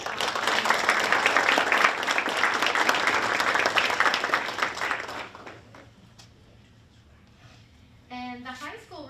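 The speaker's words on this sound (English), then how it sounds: "let's give a big round of applause" Loud, sustained applause from the audience at a board of education meeting during a certificate presentation, lasting about five seconds before dying away as a voice begins speaking.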